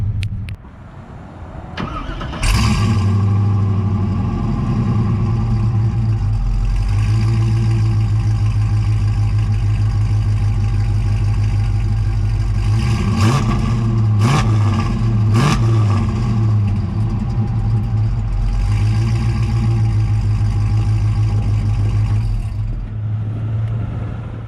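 An LS-swapped G-body car's V8 cranks briefly, fires up with a loud surge, then settles into a steady, rumbling idle up close, with a couple of small blips partway through.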